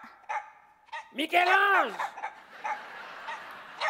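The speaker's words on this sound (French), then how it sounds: "Ça, c'est mon petit chien" A small dog barks close by in a sharp, yapping burst with a drawn-out whining yelp, followed by scattered shorter yips, while people talk around it.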